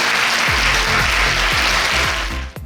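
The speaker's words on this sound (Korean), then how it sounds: "여러분 큰 박수 부탁드립니다" A lecture audience claps steadily and densely for a few seconds, with a low rhythmic thumping under the applause before it trails off at the end.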